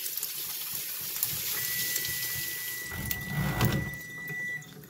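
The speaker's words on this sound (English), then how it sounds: "run a little bit of water." Cold tap water runs over cooked shrimp packed with ice cubes, a close, steady gushing stream that splashes harder near the end before cutting off.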